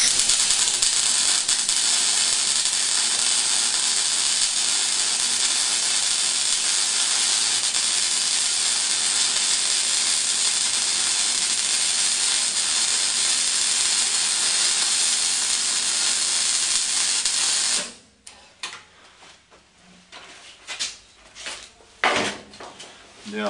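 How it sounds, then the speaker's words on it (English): Electric arc welding torch on metal gives a steady, loud crackling hiss that runs unbroken for about eighteen seconds, then stops abruptly, leaving a few scattered clicks and handling noises. "I'm going to bring it quite close to the metal and then lift it away a small amount and then start welding."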